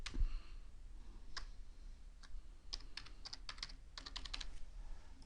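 A username and password typed on a computer keyboard: quiet, close clicking keystrokes that start sparse and then come in quick irregular clusters, with no talking.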